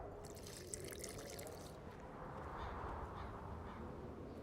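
Water poured during alchemy in The Witcher 2 makes a soft, steady trickling wash that runs faint and continuous, with a background cawing-like texture and no talking.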